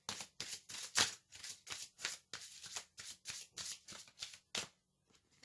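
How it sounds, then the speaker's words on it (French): Tarot cards being shuffled and drawn, a rapid series of crisp riffling and flicking bursts up close, about a dozen in quick rhythm, with no talk. "Je vais tirer d'autres cartes."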